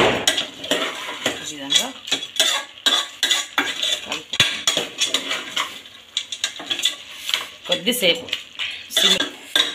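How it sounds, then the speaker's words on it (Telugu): Metal spoon stirring and scraping a pot of goat head curry with chili, turmeric, ginger and garlic, repeated clattering strokes in an uneven rhythm, close and loud, with a voice talking intermittently over it. "ఇదంతా కలిసేటట్టు కారము, పసుపు, అల్లం, ఎల్లిగడ్డ అంతా కలిసేటట్లు"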